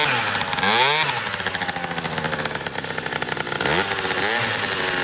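The two-stroke engine of a Booster scooter revs while warming up, a loud, close, buzzing drone that climbs in pitch twice with quick throttle blips and settles back between them.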